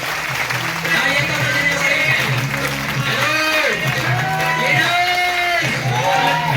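An audience at a networking event applauds and cheers, with sustained clapping under whoops and shouted voices, loud and close, while a speaker's voice carries over the crowd.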